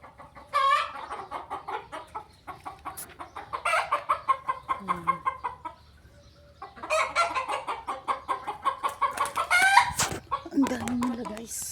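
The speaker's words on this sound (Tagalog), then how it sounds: "May mga manok din dito guys." Chickens cluck and a rooster crows around a farm coop in close, busy bursts, with a short lull midway before the flock grows loud again.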